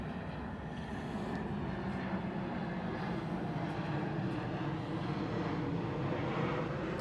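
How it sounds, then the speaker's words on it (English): A continuous low roar of an airplane passing overhead, steady and fairly loud, with no talking over it. "sorry about the plane."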